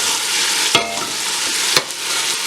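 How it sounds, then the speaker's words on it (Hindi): Onions fry in a pan toward a light golden brown, giving a steady, even sizzle broken by two brief scrapes of stirring. "बहुत ही लाइट कैरमलाइज करूंगी हल्का सा प्याज को।"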